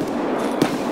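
A single sharp gunshot crack in Escape From Tarkov, heard once, brief and fairly loud against a dull background hum.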